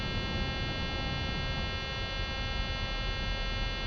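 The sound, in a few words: landing gear warning alarm in flight simulator game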